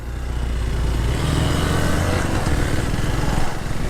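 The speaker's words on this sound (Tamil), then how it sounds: "4வது கீரில் ஏற்றிக்கிறேன். 4வது கீர்லேயே கதற விடுறேன்," A vehicle engine revs hard in fourth gear, a steady, loud, close drone with a rough buzzing tone that holds throughout and dips slightly near the end.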